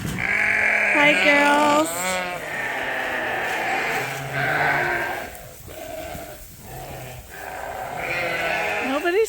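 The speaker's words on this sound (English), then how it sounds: "These are the replacement ewes." Replacement ewes bleating at feeding time, several overlapping calls rising and falling close by, with a person speaking briefly among them.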